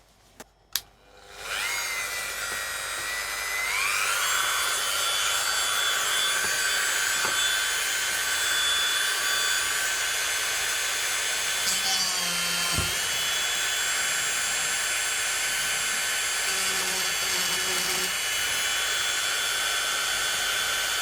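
A power tool spins up to a steady high whine, drilling holes during a laser control board repair, and runs continuously for about twenty seconds with slight pitch shifts and a faint clunk midway.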